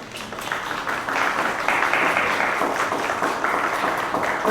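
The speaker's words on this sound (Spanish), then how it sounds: "este aplauso también es para ustedes" Applause from an audience at a diploma ceremony, a dense, steady wash of many hands clapping together for several seconds, fairly close and full, with no voices over it.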